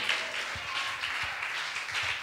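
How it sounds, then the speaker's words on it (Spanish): A church congregation applauds during a sermon, a soft, distant wash of many hands clapping steadily throughout, fairly faint and diffuse with no voices standing out. "De un aplauso fuerte al Rey en esta hora."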